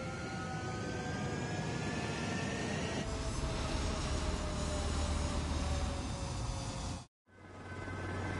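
Jet fighters in Ace Combat 7: Skies Unknown roar steadily, rising in pitch and growing louder partway through. The sound cuts out abruptly for a moment near the end, then the engine drone resumes.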